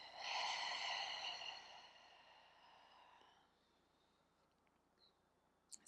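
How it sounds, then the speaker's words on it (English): A slow, deep breath drawn and released for about three seconds, close and airy and fairly loud, then quiet room tone with a couple of faint clicks at the end. "We start by taking just a couple of deep breaths in and a couple of deep breaths out."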